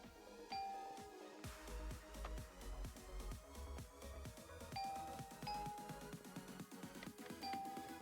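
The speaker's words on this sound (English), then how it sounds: "Currently trying to figure out how to make this sound like a door chime from a store." A synthesized store-style entrance chime rings in short bright tones, repeating several times over a busy pattern of soft clicking and tapping notes, fairly quiet overall.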